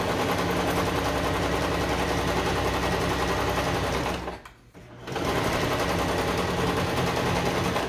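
A sewing machine stitches a seam on a flower pillow kit, loud, steady and close, running continuously with one brief pause before resuming at full speed.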